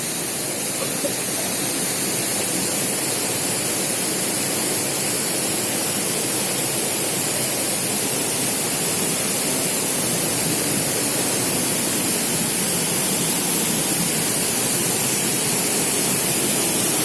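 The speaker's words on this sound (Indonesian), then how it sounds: "Ini kemarin yang kita ulas tentang air terjun ini ya, air terjun Brantas." The Brantas waterfall pours in a constant, loud, broadband roar of falling water, unbroken and steady throughout with no other sounds standing out.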